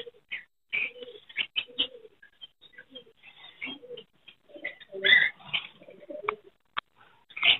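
Fancy pigeons coo and call at a Sunday bird market in Chichawatni, with repeated soft throaty coos and short chirps from several birds close by, irregular and overlapping, against a quiet background.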